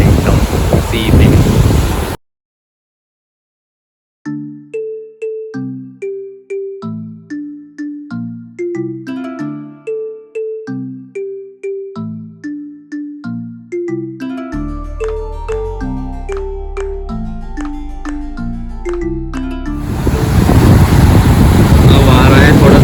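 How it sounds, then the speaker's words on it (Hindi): Surf washing up on a shore, with wind gusting over the microphone and a boat out on the water. The broadband roar is loud at the start and end, with a long stretch of tinkling electronic melody in between. "ये देखो वेव्स भी थोड़ी बड़ी हो गई है यहाँ पे ना।"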